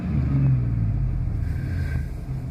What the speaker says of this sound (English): Do a real quick rev inside